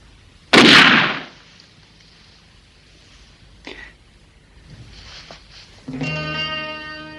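A single loud pistol gunshot cracks out sharply in a 1968 TV drama scene, followed by a brief faint rustle and then a quieter sustained musical tone; no one speaks.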